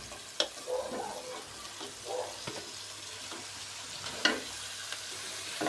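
Chopped fenugreek leaves hit a pan of spices and fry with a soft, steady sizzle, broken by a few sharp clinks and scraping stirs of a utensil, heard close up with no talking.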